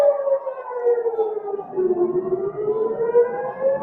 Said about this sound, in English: That our siren is annoying.